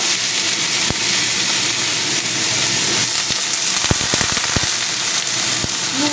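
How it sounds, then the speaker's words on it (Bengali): Shrimp fry in hot oil in a wok, giving a loud continuous hiss broken by sharp spitting crackles and pops, clustered in the middle, heard close with no talk. "কড়াতে আমি আগে থেকে তেল দিয়ে বসিয়ে দিয়েছিলাম তো আমি এবার কিছু চিংড়িগুলো ভেজে নেব"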